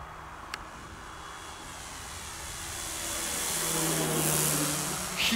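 A 2-metre balsa Turbo Timber RC airplane on 6S power whines steadily overhead, a thin high buzz that slowly swells louder as it passes closer, with a soft airy hiss.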